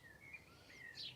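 Small birds such as robins chirp faintly outdoors in a short burst of thin, high tweets over a low background hum, with no talking.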